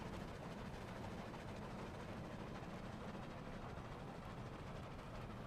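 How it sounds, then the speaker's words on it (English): A wooden train in the Dead Rails video game runs fast, producing a steady, dense rumbling rail and engine noise with no breaks, faint and continuous, with no voices. "Whoa, this train is very fast."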